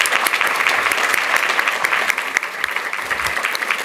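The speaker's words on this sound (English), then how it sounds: "Please join me in giving them another round of applause." An audience at a mental health panel discussion gives the panelists another round of applause: loud, close, brisk clapping with crisp individual claps standing out, holding steady then easing slightly toward the end.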